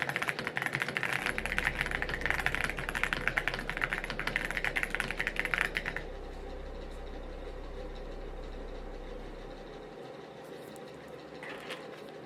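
Steady computer keyboard typing during a writing session at home, continuous clatter for about six seconds over a low engine-like hum, then fading to a quieter background drone.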